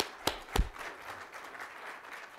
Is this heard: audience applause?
yes